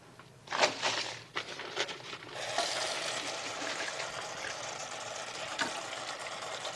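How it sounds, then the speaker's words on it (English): Cleaning a wash basin with water during nursing-assistant care practice: a few clattering knocks at first, then a steady running and splashing of water that continues to the end. "Now I'm going to clean my basin."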